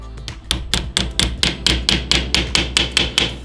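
Nails being hammered into a wall to fix peeling wallpaper: a steady run of about fourteen sharp, close knocks at an even, quick pace over a low background hum.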